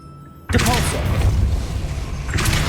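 Depulso force-push spell in Hogwarts Legacy: a sudden loud burst followed by a sustained broadband rushing, whooshing blast with a brief magical shimmer, ending in another short surge.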